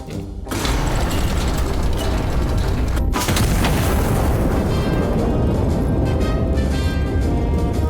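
A heavy turret gun fires in the Iron Nest Turret Simulator game, with a deep boom at about half a second and a second at three seconds. Dense, loud mechanical rumble and clatter run continuously between and after the shots.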